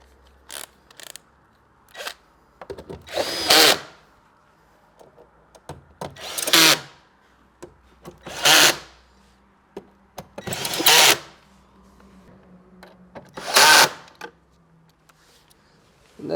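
A power drill drives screws while an OGAWA Maestro Ai massage chair is assembled, giving several separate whirring bursts of a few seconds each, close and loud, with quiet gaps between them and no talking.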